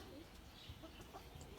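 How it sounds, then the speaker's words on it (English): Backyard chickens feeding on scattered seed give soft clucks and low coos at close range, very faint against a quiet outdoor background, with a voice murmuring briefly. "So the chickens are here now, eating the seed."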